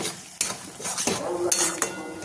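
Spiced eggplant stirred in a pan for a Bengali-style mash, a metal utensil scraping and clinking against the pan in several sharp strokes over a soft sizzle, close and fairly loud with no talking.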